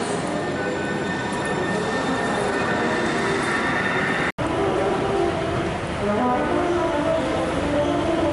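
A subway train rumbles loudly and steadily through a tunnel at University Street station in Seattle, its wheels squealing and grinding on the rails as it pulls away, with no voices.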